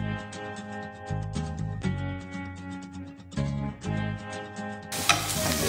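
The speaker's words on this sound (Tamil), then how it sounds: "மல்லியலை வந்து ஃபைனாக சாப் பண்ணி அதையும் அதிலே போட்டு வதக்குறாங்க." Finely chopped coriander leaves sauté in a pan for a prawn and coriander soup, giving a crackling sizzle with intermittent stirring scrapes beneath steady background music, growing louder and brighter at the end.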